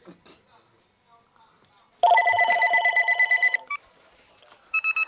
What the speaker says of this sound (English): So this phone is ringing, man.